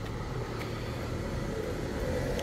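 A single car passes at a moderate distance on a street in Rye, East Sussex, giving a low, steady roadway rumble that stays faint and even for a couple of seconds.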